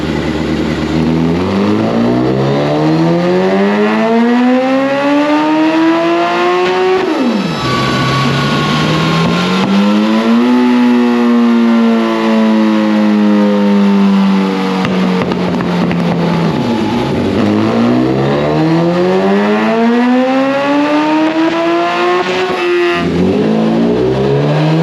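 A 2005 nitrous Suzuki Hayabusa running on E85 makes dyno pulls. The engine screams loudly, climbing steeply in pitch over several repeated runs with sharp breaks between gears.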